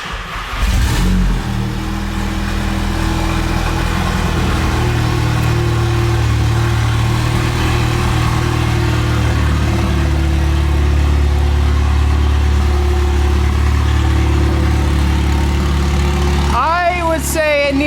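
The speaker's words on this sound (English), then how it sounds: "First start" A Volkswagen MK7 GTI with a big turbo fitted fires up for its first start, then idles loudly and steadily with a deep rumbling exhaust close to the microphone, ending in a short blip of revs.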